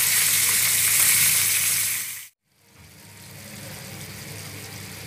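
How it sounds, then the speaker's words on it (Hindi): Minced meat (keema) frying in a pan for chatpata aloo keema, a loud steady sizzle that cuts out briefly midway, then returns slightly softer and continues alone. "अब इसमें कीमा डाल दें, पांच मिनट भूने।"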